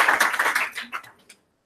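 Brief applause from delegates at a UN Economic and Social Council session. A short burst of clapping fades out within about a second, leaving silence.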